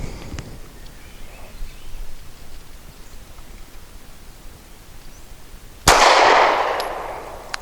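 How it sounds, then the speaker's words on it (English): A Walther PPS M2 pistol, unsuppressed and loaded with subsonic ammunition, fires a single loud boom after a stretch of faint outdoor hiss, then the report decays with a brief reverberant tail. "shooting subsonics even without a suppressor are a little more pleasant because they don't have that crack to them. It's more of just a boom"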